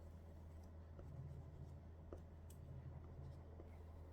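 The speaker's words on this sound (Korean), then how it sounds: "조심조심 하면서 색칠." Oil pastel scrapes softly across paper in short, careful strokes, faint and close under a low steady background hum.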